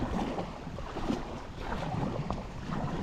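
Steady wind blows and buffets across an outdoor space during a kayak trip, a broad rushing noise with gentle gusts rising and falling throughout.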